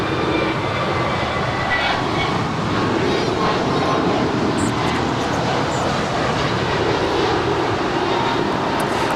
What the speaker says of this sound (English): Right here we have American 143 departing to Honolulu. It's a brand new Airbus A321neo.